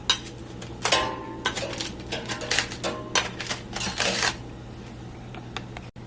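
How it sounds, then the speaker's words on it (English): Crinkling, rustling aluminum foil being peeled back from a pork shoulder roasted for three hours, heard as a series of close, sharp crackles and crumples in short bursts, with a steady low hum underneath. "Now I'm going to uncover it."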